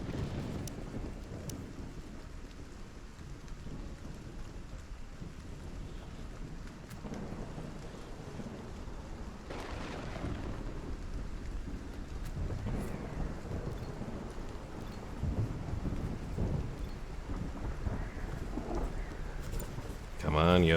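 A thunderstorm with steady rain in the survival game Stranded: Alien Dawn, a constant wash of rainfall with low rumbling thunder swelling at intervals, while someone talks over it throughout.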